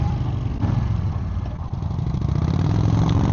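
Yamaha V-Star motorcycle cruising at 75 mph on a freeway, a steady loud engine drone with constant road and wind rumble, no talk.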